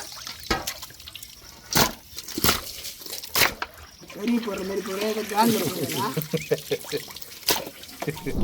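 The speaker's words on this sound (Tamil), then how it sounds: "கல் உப்பு மஞ்சளும் போட்டு நல்லா ரெண்டு மூணு அலசி அலசி எடுத்துக்கிறோம்" Chicken is rinsed by hand in water with rock salt and turmeric in a kitchen: irregular splashes and sloshing with a few louder splashes, and a voice talking partway through.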